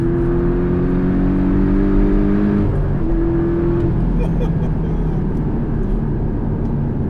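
A 2018 Porsche 718 Cayman GTS pulls hard under acceleration, its engine note rising steadily in pitch, then breaking off around the shift into a broad rumble. The roar is loud and close throughout, with voices faintly audible alongside.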